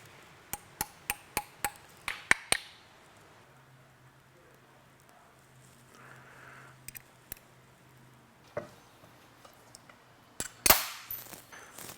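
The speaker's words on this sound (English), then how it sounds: "Just got to put our snap ring in and then it'll find its home." A snap ring is fitted into a tailshaft yoke on a car driveline, producing a rapid run of sharp metallic clicks and taps at the start, then sparse knocks and a louder clack near the end, with faint background noise.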